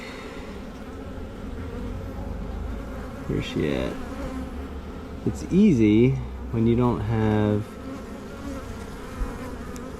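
Dense, steady buzzing of many honeybees from a swarm gathered around a queen cage at a hive, close and continuous, with someone talking briefly over it.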